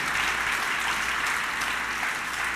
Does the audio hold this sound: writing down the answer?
no